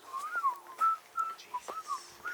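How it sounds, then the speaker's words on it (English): A person whistles a short run of bright, clear notes, rising and falling slides in quick phrases with small gaps between, close by and alone without talk. "God is pleased by that whistle."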